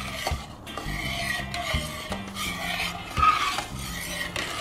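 Spoon stirring melted coconut oil into yogurt in a bowl, repeated close scraping and knocking strokes in an uneven rhythm with soft rubbing between them.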